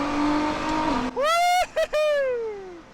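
A 2009 Nissan R35 GT-R making about 600 wheel horsepower accelerates hard in second gear, its engine note rising sharply, cutting off briefly at shifts, then fading away as it passes.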